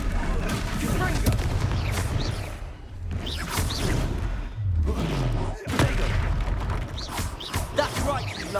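Confringo fire-spell blasts in the Hogwarts Legacy video game, a loud busy run of booming, whooshing bursts and crackling impacts across the stretch, layered over game combat noise and shouted voices.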